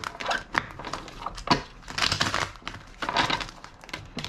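Tarot cards being shuffled by hand, a quiet, continuous run of crisp riffling and flicking clatters with irregular bursts, close up and without talk.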